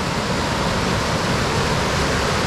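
A river rushes beside a muddy trail during a 30-mile run in West Lothian, a loud, steady broadband wash of flowing water filling the whole moment without any voices.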